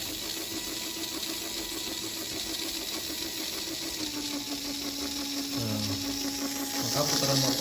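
An IoT-controlled electric motor runs at medium speed with a steady, continuous whirring hum and a faint mechanical buzz that grows slightly louder toward the end.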